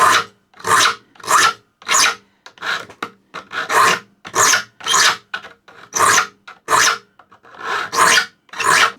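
A file sharpening the teeth of a handsaw being converted from rip to crosscut, in a steady series of about fifteen distinct rasping strokes with short gaps between them, close and loud, no voices.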